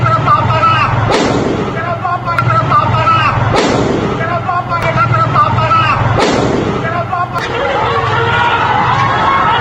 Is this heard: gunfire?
yes